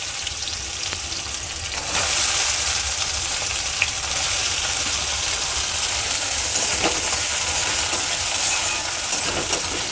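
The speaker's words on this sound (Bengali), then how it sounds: "আমি গ্যাসে তেলটা গরম করে নিয়েছি, পেঁয়াজ কুচিটা দিয়ে দিলাম" Chopped onion frying in hot oil in a pan on a gas stove, a steady dense sizzle that surges louder after the first couple of seconds and crackles on evenly, close and alone.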